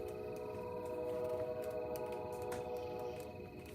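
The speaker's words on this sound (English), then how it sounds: "You hear the train." A train passes in the distance near a lakehouse. It carries as a faint, steady tonal drone like a far-off horn, holding for several seconds under a low background hum before easing off.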